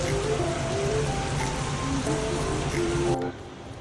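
Steady rain pours outside a resort at Mandarmani, a dense, even patter on surfaces that continues throughout with faint background tones, then drops noticeably quieter near the end.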